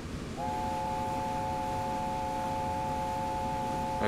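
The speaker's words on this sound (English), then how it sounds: "I don't have a horn, but I have a whistle." A steam whistle on the LNER A4 Silver Link in Train Simulator 2017 blows one steady chord of several tones, held loud and unbroken for close to four seconds above a low rumbling background, then cuts off.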